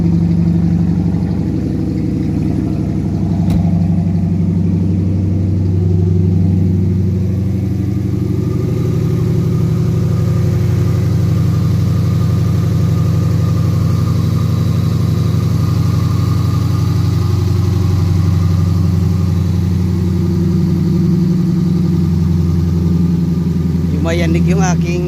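An engine with its exhaust pipe removed runs at a steady, loud idle for the whole stretch, a constant low throb with a faint clatter near the end and someone talking over it.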